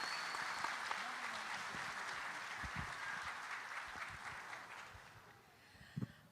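A church congregation applauds steadily for a woman's testimony, a dense sustained clapping that fades slightly toward the end, with brief thumps and a voice heard under it.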